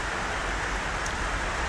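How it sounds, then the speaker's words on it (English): Rain falls outdoors as a dense, even hiss of drops on surfaces, steady and fairly loud throughout with no voices over it. "can you guys hear us over the rain?"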